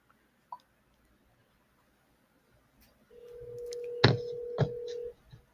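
Telephone dialing tones sound as a call is placed: two sharp clicks, then a steady tone of a couple of seconds cut by two quick keypad beeps, clear and alone.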